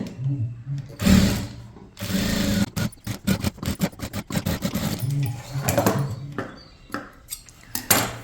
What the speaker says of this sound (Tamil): இதுக்கு மேலே ஒரு பதிச்சு தையல் போடலாம் லைனிங் மேலே போடணும் தையல்